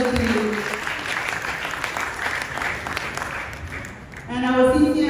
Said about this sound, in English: Can we give a round of applause for Project Genius for Sustainability?